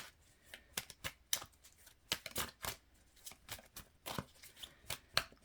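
Quick bursts of tarot cards being riffled and shuffled, crisp papery slaps in an uneven rhythm, close up with no voices.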